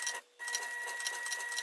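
A sewing machine runs steadily, stitching the seam of a fabric card pouch, with a rapid even mechanical whir and one brief pause near the start.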